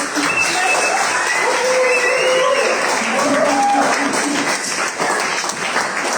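Loud, dense clapping from a crowd fills the room in a continuous roar of hands, with voices talking underneath.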